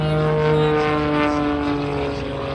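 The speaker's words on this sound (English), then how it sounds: "You realize that's probably a high revving engine plane." An old propeller plane with a high-revving engine flies at an air show under a low cloud ceiling, giving a steady, loud, droning engine hum with strong tonal harmonics that fades slightly toward the end.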